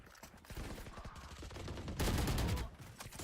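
Rapid gunfire crackles during a competitive Valorant match at a high school showdown, dense bursts of shots rattling continuously and growing louder in the second half, with no talk over it.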